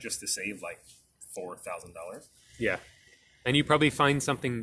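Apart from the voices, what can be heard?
None of the usual background noises is heard.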